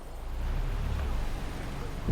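A boat engine idles steadily in the Hell Let Loose: Vietnam video game, a low continuous rumble with wind-like noise, ending in a brief louder bump.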